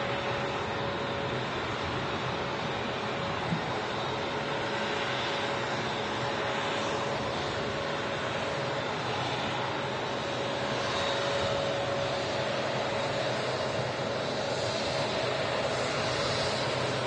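An Airbus A380 airliner at Manchester Airport produces a continuous broad jet rumble with a steady tonal hum, moderately distant and unbroken throughout.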